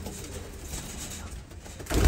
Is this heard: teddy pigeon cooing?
yes